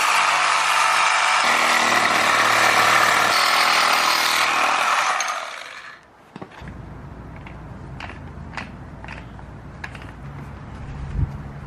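A power tool cuts loudly and steadily through the inner part of a lower control arm bushing for about six seconds, then stops, leaving quieter clicks and handling noises.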